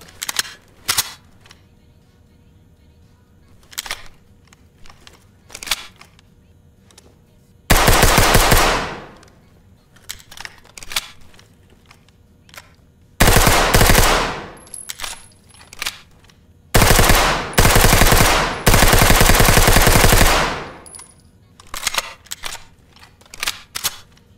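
MP5 submachine gun firing in the Ready or Not video game, loud sustained bursts alternating with single sharp shots and quiet gaps, close and alone without speech.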